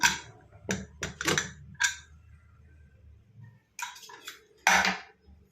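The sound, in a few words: opening a pressure cooker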